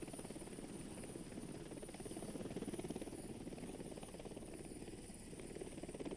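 A helicopter sets down on an offshore helideck, its rotor producing a steady, fairly faint rhythmic thudding and engine whine that continue without a break, with no voices.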